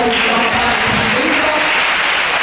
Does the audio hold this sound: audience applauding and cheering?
yes